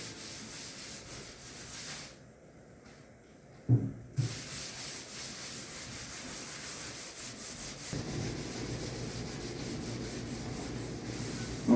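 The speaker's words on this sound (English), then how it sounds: "We're going to wipe that on here, give it kind of a slip coat." Soft, continuous rubbing as mineral spirits are wiped onto a vintage country wooden buffet top, a gentle cloth-on-wood swish with a short quiet gap and slightly louder strokes toward the end.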